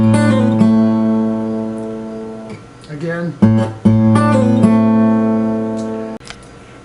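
Acoustic guitar slowly playing a riff from a song, plucked notes with pull-offs and hammer-ons ringing close and clear, played twice with a brief spoken word in between.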